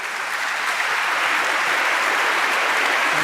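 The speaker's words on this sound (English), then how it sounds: "A round of applause there for the High Representative." Audience applause in the Salone dei 500 at Palazzo Vecchio during a State of the Union conference, a dense, even wash of clapping sustained throughout.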